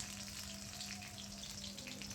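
Chopped onion fries in oil in a wok-style pan, giving a steady, close, even sizzle with a faint crackle that runs without a break and with no talking.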